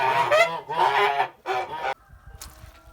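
Kholmogory geese honk loudly and close by near a stream, with a few long, harsh calls in quick succession followed by quieter rustling and a faint later cry.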